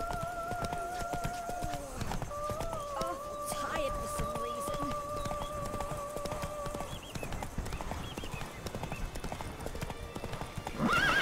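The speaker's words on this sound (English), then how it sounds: "Easy does it, Roach" A horse gallops with steady hoofbeat clip-clops in The Witcher 3: Blood and Wine, and whinnies loudly partway through, with game voices and ambience around it.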